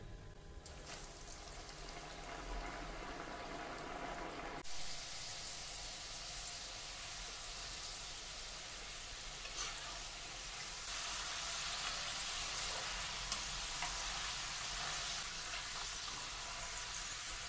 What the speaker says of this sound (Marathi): याच पद्धतीने राहिलेले फिंगर चिप्स हे आपण डीप फ्राय करून घेऊया.